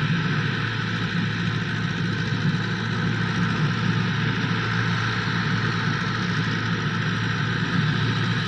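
A steady diesel tractor engine idles close by, a constant low rumble with a mechanical chug that holds level throughout.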